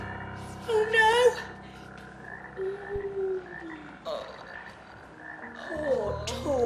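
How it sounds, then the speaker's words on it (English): Toads or frogs croak across a floor in a school setting in a children's TV episode, with several croaks scattered through the scene and excited voices and gasps mixed in. "Where have all these toads come from?"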